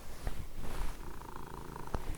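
An orange cat named Samson purrs close by, a low steady rumble that runs unbroken through the moment with no talking over it.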